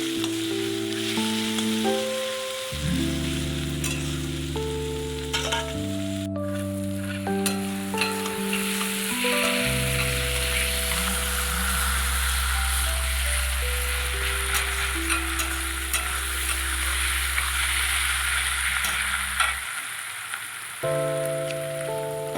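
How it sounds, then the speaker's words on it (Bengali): Sliced onions with a little salt fry in a pan for mutton curry. A soft, continuous sizzle runs underneath loud instrumental background music that changes notes throughout. "পেঁয়াজের ভেতরে একটু নুন দিয়ে দিচ্ছি, তাহলে পেঁয়াজটা তাড়াতাড়ি ভাজার সঙ্গে সঙ্গে নরমও হয়ে যাবে।"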